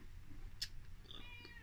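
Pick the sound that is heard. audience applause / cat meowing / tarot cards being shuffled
cat meowing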